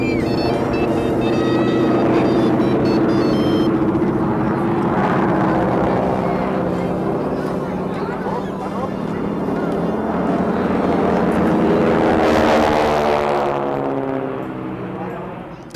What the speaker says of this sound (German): Das ist der Sound des Sternmotors der T6.